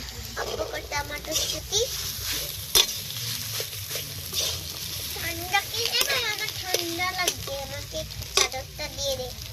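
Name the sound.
green peas frying and being stirred in a pan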